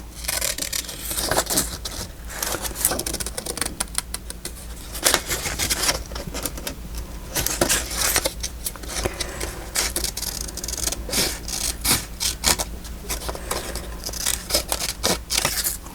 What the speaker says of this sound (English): I'm going to fussy cut this piece out.